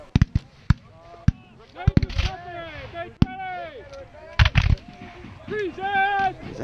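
Sharp musket shots at a Battle of Monmouth reenactment, several loud cracks scattered irregularly among shouted commands and other voices, with a dense burst of reports near the middle and another near the end.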